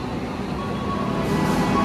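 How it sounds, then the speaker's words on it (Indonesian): The KA Jayakarta passenger train pulling out of a station, a brief, steady rumble of rolling wheels and moving carriages heard from nearby. "Kereta api Jayakarta melanjutkan perjalanan ke tujuan akhir stasiun Jakarta Pasar Senen."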